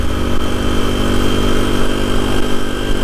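A small Suzuki DR200 dual-sport motorcycle cruises on a highway through an urban area, its single-cylinder engine holding a steady, loud drone with broadband wind rush. The sound stays constant throughout, and no voices are heard.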